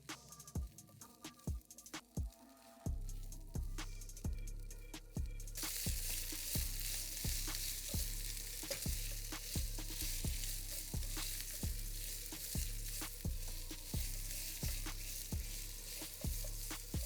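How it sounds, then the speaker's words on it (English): Sliced peppers, onions and serrano hit a hot pan and sizzle loudly and continuously, with a rapid regular series of tossing clanks and scrapes running through the whole stretch. "We're going to toss in our beautiful vegetables."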